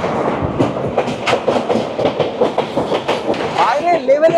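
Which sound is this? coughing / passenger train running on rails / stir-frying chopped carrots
passenger train running on rails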